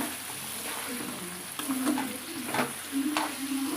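Pieces of country chicken meat frying in a pan: steady close sizzle with a few soft stirring scrapes and clinks over a constant hiss.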